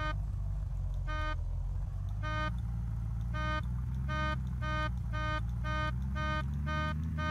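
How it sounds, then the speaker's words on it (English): Ice cream truck jingle from the video game Unturned, a repeating tinkling melody of evenly spaced chime notes playing steadily over a constant low vehicle engine rumble. "You see the ice cream truck?"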